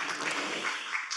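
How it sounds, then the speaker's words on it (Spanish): An audience at a literary talk gives a short burst of applause for the participants, a soft, even wash of clapping that lasts about a second. "Así que un aplauso,"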